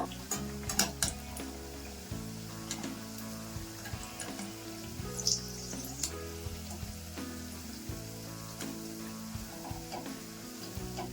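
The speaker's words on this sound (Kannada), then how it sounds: "ಇವಾಗ ಎಣ್ಣೆ ಕಾದಿದೆ, ಒಂದೊಂದಾಗಿ ಹಾಕೊಂಡು ಕರ್ಕೊಂಡ್ಬಿಡೋಣ. ಲೋ ಫ್ಲೇಮ್ ಅಲ್ಲಿ ಕರ್ಕೋಬೇಕು." Coconut snacks deep-fry in hot oil in a kadai on low flame, a continuous crackling sizzle with occasional clinks of a utensil against the pan.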